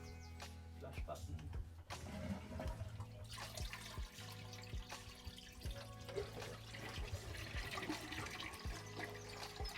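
Toilet in a small converted loo flushed with a push button, a rushing, gurgling water flow of moderate loudness with drips and clatter, continuing for several seconds.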